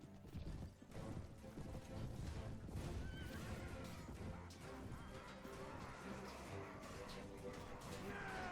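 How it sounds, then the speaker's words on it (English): Horse neighing in the Perisno mod game amid a dense, loud battle mix of hooves, clashing and crowd noise, with a whinny rising over the din and talk underneath. "Yep, they're horse archers"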